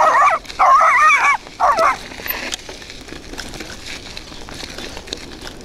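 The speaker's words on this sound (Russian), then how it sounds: "не гавкай." A big dog barks at a cyclist on a rural road in the Apostolove and Nikopol districts, giving three loud close barks in quick succession, then quiet rustling follows.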